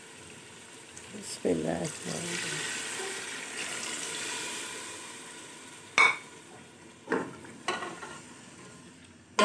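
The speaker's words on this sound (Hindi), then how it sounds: "बस तो इसमें डाल दें पानी।" Water poured into a pot of meat browning in separated ghee for aloo gosht, giving a loud hissing sizzle that swells and settles, with brief clatters of stirring and a few words spoken over it.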